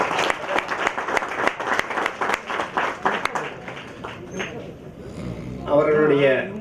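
Loud applause fills a Tamil stage event as Sridhar's family is welcomed up, clapping steady for about five seconds before fading, then a voice speaks over the hall near the end.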